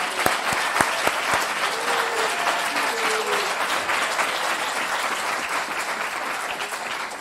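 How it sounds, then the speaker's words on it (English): Audience in a hall applauding students after their bridge showcase presentations, a loud continuous wash of clapping with a few sharp claps near the start, sustained throughout. "I would like to ask for one more round of applause to all of the students."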